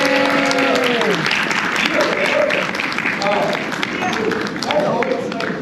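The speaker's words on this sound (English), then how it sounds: "Give a round of applause for places." A convention audience claps steadily through the whole stretch, loud and continuous, with overlapping voices and tonal sounds layered on top of the applause.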